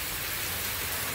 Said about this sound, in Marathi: बाहेर बघू शकता तुम्ही, म्हणजे पाऊस चालू आहे